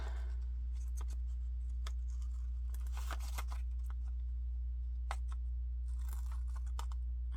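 Scissors snip through an old book page, a few crisp close cuts and papery rustles scattered over a steady low hum.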